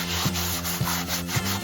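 A Scotch-Brite pad scrubs dirt and grime off removed parts of a 1965 Ford F-100 shop truck. The close, harsh rubbing comes in three back-and-forth strokes at a steady rhythm, with no voices.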